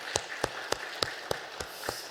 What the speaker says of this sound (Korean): 우리 복 주신 우리 하나님께 박수로 감사드리겠습니다